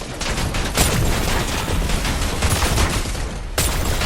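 Rapid gunfire in Fortnite Battle Royale, a dense loud barrage of overlapping shots that continues without a break for several seconds, with a sharper burst near the end and no voices.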